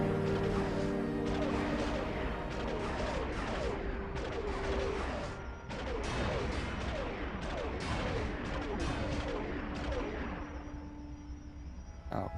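Rapid gunfire in Star Wars Galaxies comes from weapons shooting at the player, with dense overlapping shots and sharp cracks, loud and close, in bursts lasting almost the whole stretch before tapering off near the end.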